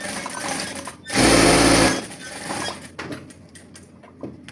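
A sewing machine top stitching a seam on Christmas pyjamas runs in one loud, fast rattling burst of about a second, surrounded by quieter handling noise.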